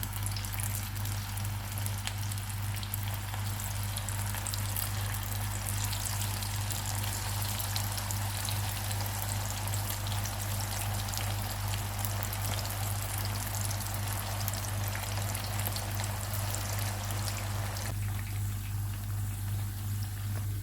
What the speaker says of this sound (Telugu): ఇప్పుడు ఆయిల్ వేడెక్కినాక మనం కలిపి పెట్టుకుని చికెన్ వేసుకున్నామండి